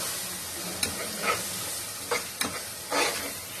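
A ground paste of shallots, fennel and spices sautés in a pan for mutton biryani, a close steady sizzle with several distinct stirring scrapes and clinks spaced through it.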